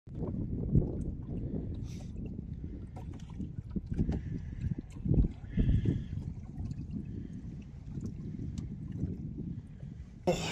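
Kayak paddling on Moraine Lake on a windy day, steady wind noise buffeting the microphone with soft, irregular water splashes and paddle strokes, close and continuous with no talk.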